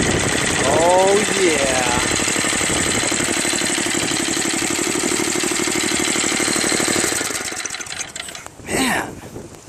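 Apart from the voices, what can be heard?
Craftsman 522 snow blower Tecumseh engine idling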